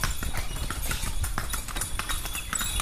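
Brisk, rhythmic clip-clop of horse hooves from a horse-drawn cart in Indonesia, close and continuous, with a faint murmur of voices underneath.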